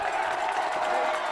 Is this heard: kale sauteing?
no